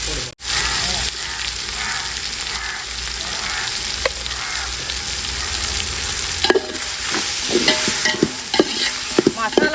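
Masala with chilli powder sautéed for a country chicken biryani, with a continuous loud sizzle and repeated scraping stir strokes that grow busier toward the end.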